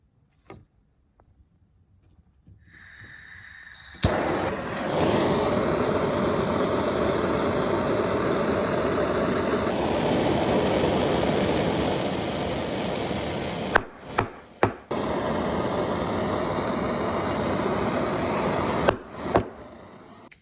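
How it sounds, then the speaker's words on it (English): A torch burns in freshly forged steel chisels. It gives a loud, steady roaring hiss that runs for about fifteen seconds, with a few short breaks near the end. "Now we're ready to burn them in with a torch."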